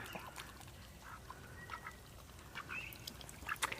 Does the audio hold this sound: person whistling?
no